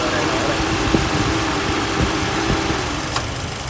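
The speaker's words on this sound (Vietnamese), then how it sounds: "Đây, động cơ đây nổ đây." A 2018 Mitsubishi Outlander petrol engine idling steadily with the bonnet open, a smooth low hum with faint ticking, heard close and continuous under a voice talking.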